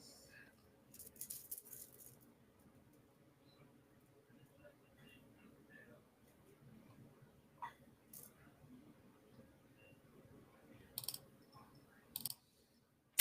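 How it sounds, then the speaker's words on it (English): Several quiet, sharp computer mouse clicks, some in quick double pairs, scattered over a faint room background with soft low murmuring. "sorry you're hearing the double clicking"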